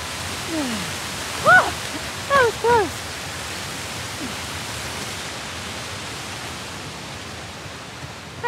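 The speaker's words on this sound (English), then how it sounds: "Hey, hey, careful! Waterfall!" Waterfall in the game Uncharted The Lost Legacy, a steady broad rushing roar of falling water throughout, with brief voices and chirps briefly rising above it.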